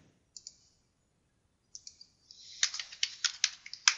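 Bursts of key clicks on a computer keyboard while entering figures into an Excel spreadsheet: a couple of light taps, a pause, then a quicker run of sharper, louder keystrokes, close and alone without talk.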